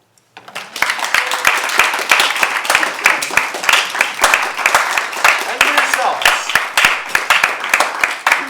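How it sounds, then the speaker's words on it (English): Applause from a student government senate meeting audience, dense sustained clapping close by for several seconds, with a voice speaking briefly over it. "can we have a round of applause"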